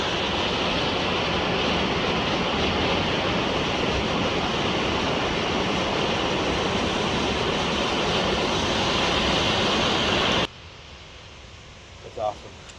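Steady, loud rush of a river still running under ice at Pattison State Park in winter, a dense continuous roar of flowing water that cuts off abruptly near the end, leaving quiet with a faint brief noise.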